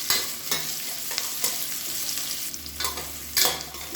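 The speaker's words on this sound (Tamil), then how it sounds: "இப்போ வெங்காயம் வதங்கிட்டு இருக்குது" Onions and green chillies sautéing in a pan for sambar, a steady close sizzle with intermittent scraping stir strokes of the spatula, heard alone without talk.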